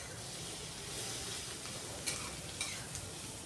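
Ginger fries in a pan for a spicy chicken gravy while being stirred, a steady close sizzle with a few sharp scraping spoon strokes toward the end.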